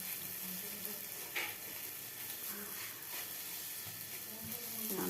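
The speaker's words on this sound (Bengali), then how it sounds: "এই যে দেখছো ভাজা হচ্ছে, এক পিঠ করে ভাজা হচ্ছে" Food frying in a pan, one side at a time, gives a steady, close hiss of sizzling oil with a few faint stirring bumps and no voices.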